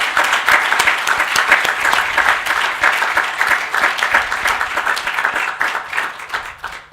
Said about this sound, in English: Please let us give Elena a big round of applause.